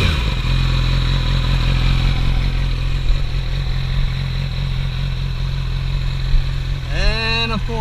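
Steady, close idle of a 2014 Yamaha R6 sport bike with a Radiant short pipe exhaust, a loud, continuous low rumble, with a brief voice rising over it near the end.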